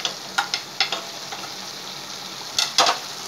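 Coriander powder, red chilli powder and crushed red chilli frying over high heat in a pan for chicken karahi give a steady, close sizzle. Several sharp spatula scrapes and stirs are scattered through it, and no one speaks.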